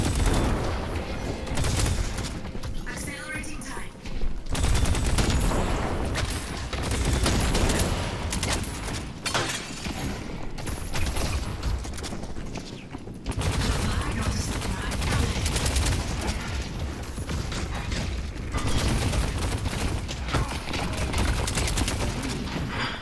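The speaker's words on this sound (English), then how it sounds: "I'm just shooting the Grey Talon repeatedly while they're trying to" Rapid automatic gunfire in the video game Deadlock, aimed repeatedly at the Grey Talon hero, runs in dense, loud bursts separated by brief pauses.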